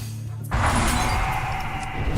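The Arcane Explosion spell effect from the card game Hearthstone: a sudden bright, crackling burst swells in after a brief lull and sustains as a dense shimmering whoosh.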